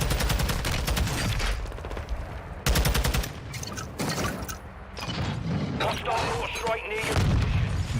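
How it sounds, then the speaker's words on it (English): Rapid bursts of automatic gunfire and booming blasts in Warzone 2, including a buffed MP7, crackle loudly in repeated volleys across the scene, with sharp crack-like onsets and a dense, chaotic firefight texture throughout. "What's with all the shooting?"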